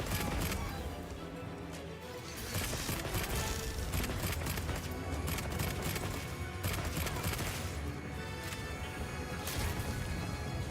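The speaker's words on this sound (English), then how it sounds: "let's see what we got with this heavy bow gun" A heavy bowgun firing in Monster Hunter Wilds, with loud, steady rapid shots and heavy impacts that keep going through the whole clip over busy game sound.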